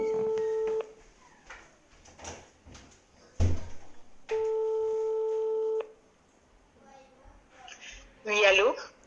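Telephone call ringing out: two long, loud, steady ringback tones separated by quiet, with a clunk and faint voices between, then a voice answering at the end.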